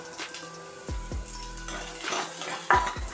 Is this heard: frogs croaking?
no